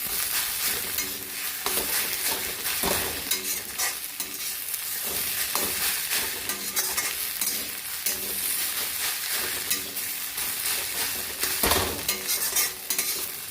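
A spoon stirs spices around a hot pan in a home kitchen, scraping in uneven bursts over a steady sizzle of frying food, heard up close without any talk.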